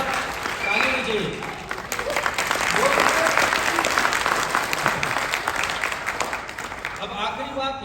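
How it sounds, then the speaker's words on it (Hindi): An audience at an achievers award program in Dubai breaks into loud, sustained applause, clapping building and holding steady before tapering off near the end, with a voice briefly heard over it. "एक बार ताली होनी चाहिए।"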